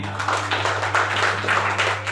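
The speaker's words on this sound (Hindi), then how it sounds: "सभी गुरुजनों के लिए एक बार जोरदार तालियां" Audience applause for the teachers at a gathering, steady clapping from a crowd in a room with a constant electrical hum underneath, moderately loud and sustained throughout.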